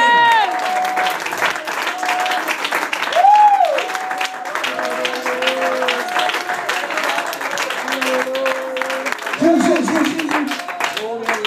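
Applause and clapping from a church congregation, a dense steady patter running through the clip beneath talk, singing and music.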